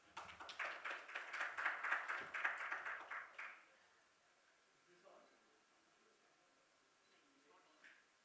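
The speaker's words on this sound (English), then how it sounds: "A big round of applause, please." An audience at a TiE event breaks into brief applause, a dense burst of clapping lasting a few seconds before fading to quiet room tone with a few faint scattered sounds.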